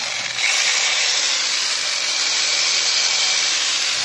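Electric hammer drill, repaired after a no-power fault, runs steadily with a loud continuous whine that kicks in almost immediately and holds without a break.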